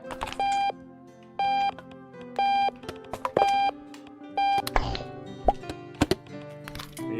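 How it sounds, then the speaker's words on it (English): In the video game Octodad: Dadliest Catch, an alarm clock sounds regular electronic beeps, about five evenly spaced tones, moderately loud, followed by clunky in-game thumps and clicks. "Shut up, alarm."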